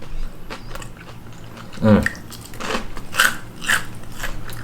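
Several crisp, crunchy bites into McDonald's fried chicken skin in the Philippines, close-up crackles spaced over a few seconds, followed by faint chewing.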